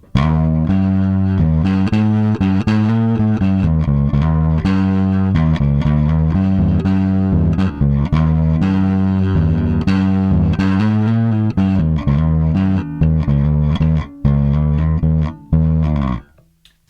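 Bass guitar played through a Fender Full Moon Distortion pedal with amp and cab simulation off, giving loud, sustained, overdriven notes and riffs that change pitch continuously before cutting off near the end.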